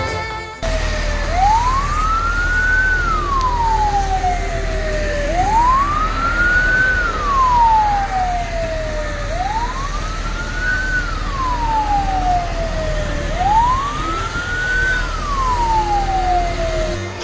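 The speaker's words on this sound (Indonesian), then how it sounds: "Tiga unit mobil damkar dari milik pemerintah daerah setempat dikerahkan untuk memadamkan api." Fire engine siren wails loud and close, four steady rising-and-falling sweeps over a low engine rumble, sounding alone without any talking, as local government fire trucks head to a blaze.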